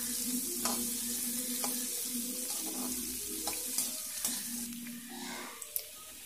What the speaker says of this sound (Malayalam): നമുക്ക് അരിഞ്ഞു വെച്ചിരിക്കുന്ന കുഞ്ഞുള്ളി ആഡ് ചെയ്ത് കൊടുക്കാം.